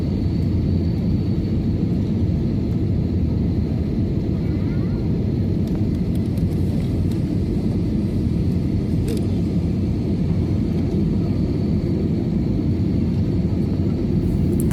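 An airplane landing at Gibraltar Airport on runway 09, a steady, loud, unbroken cabin rumble with a faint hiss on top and no talk.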